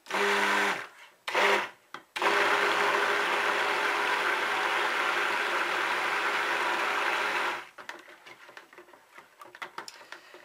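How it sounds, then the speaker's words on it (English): A motorized stick blender whirs in short bursts while making soap with lye, then runs steadily for several seconds before cutting off, followed by light clattering. "I'm trying out a new stick blender today."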